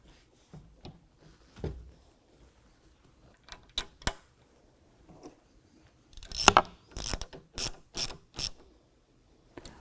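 Shoulder bolt being installed on a Jeep soft top during a Rugged Ridge replacement top fitting: sparse clicks and knocks, then a burst of quick ratcheting clicks from a hand tool, close by with no talk.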